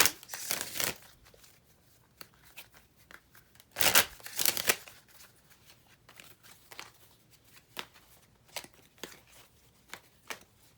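Tarot cards being shuffled by hand, close crisp riffling bursts and papery flutters separated by quieter pauses and small scattered clicks as cards are handled.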